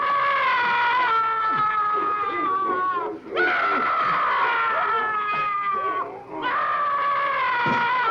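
Screaming in a nasty 1970s movie: long, drawn-out shrill wailing screams, loud and sustained in three breaths with brief gaps, over a faint low rumble of other film audio.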